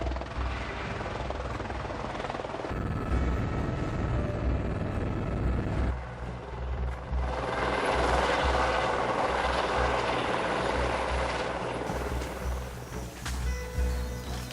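A helicopter flies in to land at a lodge helipad cleared from the bush in Kenya's Loita Hills. A loud, steady rotor and engine roar fills the whole stretch and shifts in tone as the aircraft approaches.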